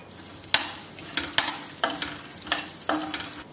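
Fenugreek seeds and cumin roast in hot oil with a soft steady sizzle, punctuated by about six sharp scraping stirs of a spoon against the pan, no voices.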